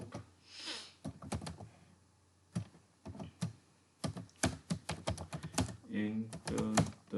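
Typing Python code on a computer keyboard, quick irregular bursts of close key clicks with short pauses between words, fairly faint in a quiet room.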